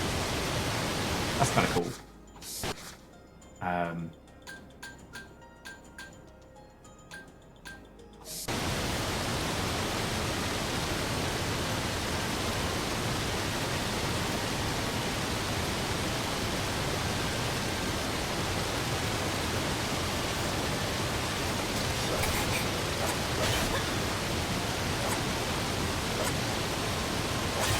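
A steady roaring waterfall from the Made in Abyss game fills the scene as continuous broadband rushing noise, starting abruptly after a few seconds of quieter sounds with a brief voice, then holding at constant loudness.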